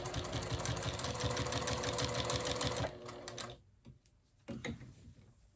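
A sewing machine stitches quilt binding along a quarter-inch seam, running in a steady, fast, close rattle for almost three seconds before stopping, followed by a few quieter handling clicks and short bursts.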